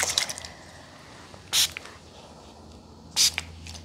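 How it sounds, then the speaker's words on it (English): Two short bursts of a spray bottle misting, evenly spaced and fairly close, during a foot and knee exam, with quiet background between them and no talk. "I'm gonna spray this side and then this side."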